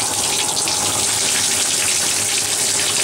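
Tap water gushes steadily into a bathtub to rinse a dog named Emmy, a loud, continuous broadband rush of spray with no break and no voices.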